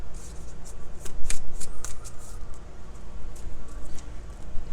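Tarot cards being shuffled by hand, a close, continuous riffling flutter with repeated crisp bursts of card slaps, steady throughout.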